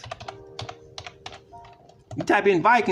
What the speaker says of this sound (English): Let's type in Vikings.